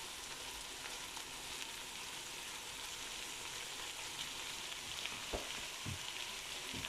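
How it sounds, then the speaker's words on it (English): Meat and onions sauté in a pan for homemade lasagne, giving a continuous, even, fairly quiet sizzle with a few soft stirring scrapes near the end. "And then we simply saute the meat"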